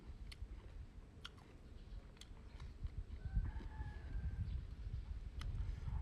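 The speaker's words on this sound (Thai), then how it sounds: "มีเสียงไก่ขันมีเสียงนกเสียงกา" A rooster crows faintly and distantly outdoors in a calm rural setting, a drawn-out call rising over low background rumble, with scattered bird chirps and clicks around it and no speech.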